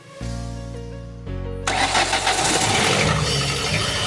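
A Ford Escape with a no-start fault cranks with a steady, whining starter drone, briefly cuts, then resumes. The sound then shifts to a louder, rougher, broader engine noise close by.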